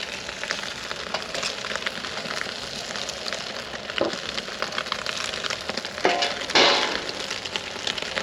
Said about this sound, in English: Now that our charcoal's ready and ashed over, we can throw our steaks on.